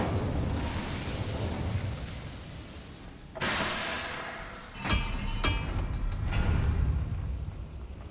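In the Hogwarts Legacy video game, the Incendio fire spell goes off as a sudden whooshing burst of flame followed by a few sharp pops, set over a steady background rumble.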